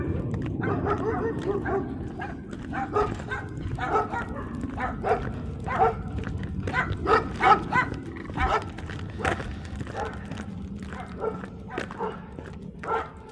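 Several puppies on a hillside near a reservoir yip and bark in quick, overlapping bursts, close by, over steady background rustle, with a person's voice now and then.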